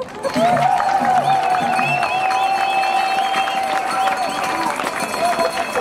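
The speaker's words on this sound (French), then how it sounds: "je demande vos applaudissements" A large crowd at a 30 June march breaks into loud, sustained applause and cheering, with shrill whistle-like tones riding over the clapping throughout.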